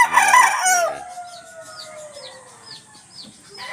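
A backyard-bred rooster crows loudly and close by, one long rising-and-falling call, followed by quieter chirps and clucks from other birds.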